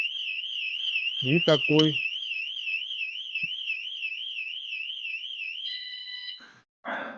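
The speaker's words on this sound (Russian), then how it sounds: "То есть, если к нему подойдешь, предупредительный сигнал" A bicycle anti-theft alarm on a Schwinn Tango tandem sounds a loud warbling electronic tone that runs steadily, then shifts to a flat beep before cutting off; a brief voice speaks over it.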